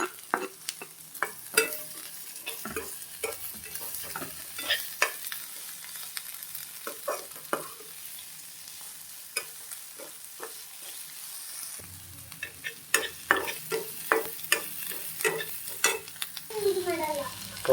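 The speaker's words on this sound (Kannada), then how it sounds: "ಅದರ ನೆಕ್ಸ್ಟು ಕಾರ್ನ್ ಹಾಕ್ಕೊಂಡು ಫ್ರೈ ಮಾಡ್ಕೋಬೇಕು." Capsicum and corn fry in a pan for a sandwich filling, with a soft steady sizzle under frequent close spatula scrapes and taps as the vegetables are stirred.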